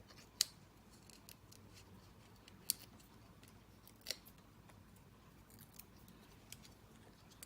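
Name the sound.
scissors cutting card for card making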